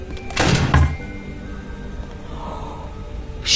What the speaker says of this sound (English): I heard the bang on the door.